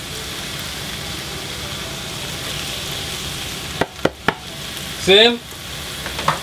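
Onion and scallion sizzle steadily in hot oil for Jamaican ackee and saltfish, a constant frying hiss that fills the clip, joined near the end by a few sharp clatters and a short spoken word.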